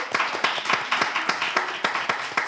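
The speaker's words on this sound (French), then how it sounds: "Les enfants, est-ce qu'on peut applaudir, s'il vous plaît?" An audience at a show claps for children: a short burst of crisp, rhythmic handclaps that are fairly close and loud, with no talk over them.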